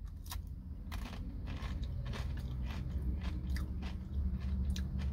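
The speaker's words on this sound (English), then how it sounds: "I do like the crunch." Close, crisp crunching of a Nature Valley Smoky BBQ Nut Crunch Bar being chewed, with repeated sharp bites and grinding over several seconds and no talking.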